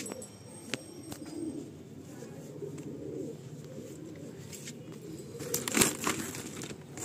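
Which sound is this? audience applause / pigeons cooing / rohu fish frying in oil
pigeons cooing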